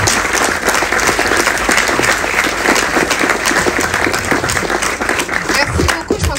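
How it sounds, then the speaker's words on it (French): Loud, dense audience applause at a conference talk on reindustrialisation and the local economy, many hands clapping continuously and close throughout, with crowd voices mixed in. "Merci pour ces applaudissements"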